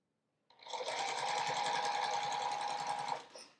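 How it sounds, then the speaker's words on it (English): A sewing machine stitches across the seams of quilt rows on a scrappy one-block quilt, running as a steady, close, fast mechanical whirr for about two and a half seconds before it stops. "So I'm just feeling where the seams are and sewing across."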